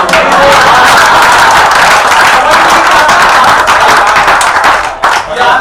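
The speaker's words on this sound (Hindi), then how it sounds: "एक एक व्यक्ति की तालियां चाहिए" Audience at a Hindi comedy poetry show claps together in a steady, dense burst of applause that fills the room and thins slightly near the end, with some talk mixed in.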